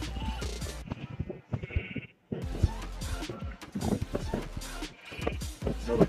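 Sheep bleating on a farm or animal outing, repeated calls close by mixed with children and adults talking throughout.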